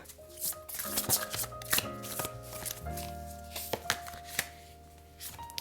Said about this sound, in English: Let's pick some oracle cards for you.